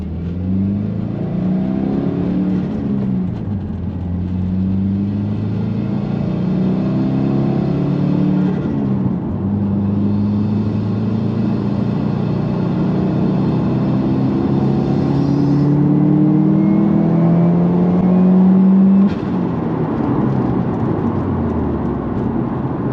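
A turbocharged car reaches full boost after a GrimmSpeed bypass valve fix. The engine drones loudly from inside as it accelerates, rising in pitch through each gear before dropping at the shifts, with no talk.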